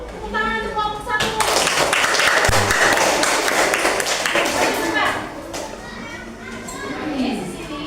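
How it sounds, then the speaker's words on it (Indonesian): A classroom of children claps for the first presentation group, a burst of applause mixed with kids' chatter and a few thumps that fades after several seconds. "Tepuk tangan untuk kelompok 1"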